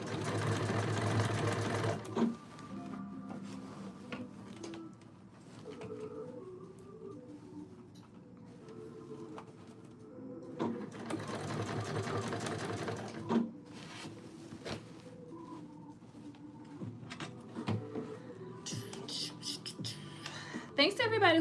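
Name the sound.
sewing machine top stitching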